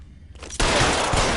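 A short burst of gunfire erupts in a video game, a dense rapid volley starting abruptly after a brief quieter moment and sustaining loudly.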